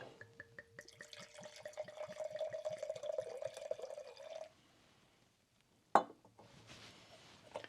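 Spanish Macabeo wine glugs into a glass in a steady, bubbling pour for several seconds, stops, then a brief clink sounds followed by faint handling noise.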